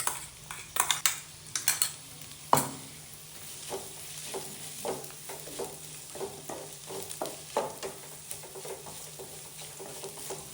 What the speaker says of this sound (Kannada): ನಾವೇನು ಮಸಾಲೆ ರುಬ್ಕೊಂಡಿದ್ವಲ್ಲ, ಸೊ ಅದನ್ನು ಹಾಕಿ ಸ್ವಲ್ಪ ಫ್ರೈ ಮಾಡ್ಕೊಳ್ಳಿ